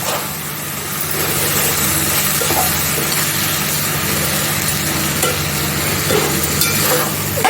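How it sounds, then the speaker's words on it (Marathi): Red chili powder frying in hot oil makes a dense, steady sizzle, with a constant low hum underneath and a few faint stirring knocks. "थोडंसं मी मिरची पावडर टाकते लाल अगदी अर्धा चमचा घेतला आहे आणि चांगला परतून घेते"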